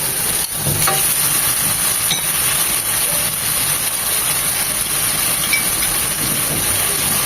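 Beef chow mein fries in a pan with a constant, loud, dense sizzling hiss that holds steady throughout, heard close up with no talk.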